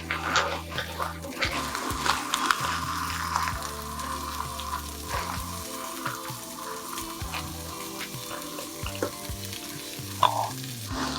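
Beans, such as black or kidney beans, stirred into a hot pan with other vegetables, giving a soft sizzle with scraping and stirring sounds over background music.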